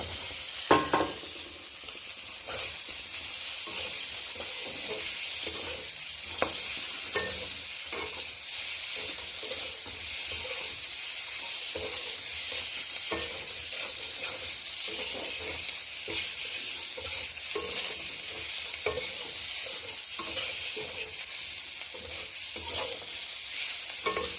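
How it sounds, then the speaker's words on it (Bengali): Whole boiled eggs tossed into a cooked spice masala in a pan, a continuous close sizzle under steady rhythmic stirring and scraping, with no talking. "কষা হয়ে গেছে এবার ডিমগুলো দিয়ে দিচ্ছি"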